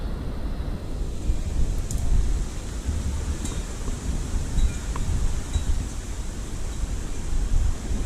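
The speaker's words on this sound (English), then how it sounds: "Hearing branches falling." Storm wind from a tornado-warned storm roars in continuous gusts through trees, a loud broadband rush with a few faint snaps and cracks of branches breaking off somewhere in the distance.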